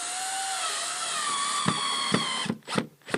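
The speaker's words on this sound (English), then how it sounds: "So we'll finish screwing it in." A power driver sinks screws into a new replacement window frame. It starts with a sustained high motor whine that shifts in pitch, then gives several short, choppy bursts as each screw is run home.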